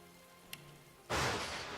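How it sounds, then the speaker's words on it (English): Heavy rain starts abruptly, a sudden loud, close hiss of downpour that fills the background after a short quiet stretch with one faint tap. "Sorry, it's still raining."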